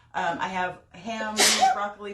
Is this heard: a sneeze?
yes